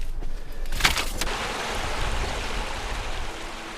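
Clear stream water rushing steadily as paper mulberry bark is washed in it, a dense close wash of flowing water throughout.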